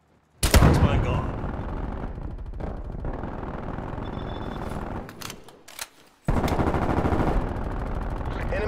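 Heavy gunfire in Call of Duty: Black Ops Cold War, dense sustained automatic bursts with loud booms, near and forceful, a brief lull before the shooting resumes, with game voices faintly mixed in.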